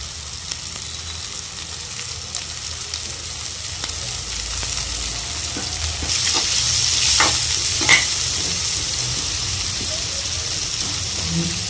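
Green chillies, curry leaves and chopped fresh coconut sizzle and crackle in a pan, a steady frying hiss that swells midway with a few sharper pops and spatula scrapes.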